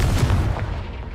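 In Hogwarts Legacy, the Confringo fire spell detonates with a heavy, rumbling explosion, a deep boom that rolls and slowly fades away with no voices over it.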